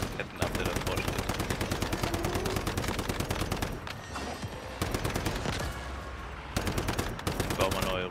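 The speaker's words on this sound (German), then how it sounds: "Ich schieß grad." Rapid automatic gunfire from the survival shooter Once Human during a large player-versus-player war, dense bursts of shots rattling almost continuously with brief pauses, loud and close.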